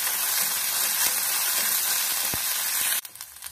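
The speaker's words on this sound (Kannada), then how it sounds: "ಹಾಕಿ ಫ್ರೈ ಮಾಡ್ಕೊಳ್ಬೇಕು ಸ್ವಲ್ಪ ಹೊತ್ತು." Strained, cooked rice frying in a pan, giving a steady dense sizzle for about three seconds that cuts off abruptly, followed by a few faint clinks.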